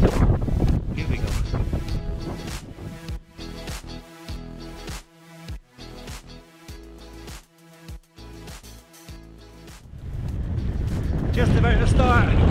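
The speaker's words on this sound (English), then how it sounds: "that wind is horrendous" Strong wind on Dartmoor buffets the microphone in heavy, uneven rumbling gusts, easing briefly in the middle before roaring back louder toward the end.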